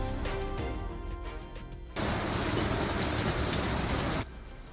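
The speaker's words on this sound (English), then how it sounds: "That is the sight and sound of hail moving through Southfield overnight" Hail falling during an overnight storm in Southfield, a dense, loud rattling hiss that starts abruptly, holds steady for a couple of seconds and then cuts out.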